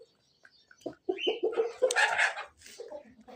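Chickens clucking and squawking in a village coop, a rising flurry of agitated calls close by, with no talk over them.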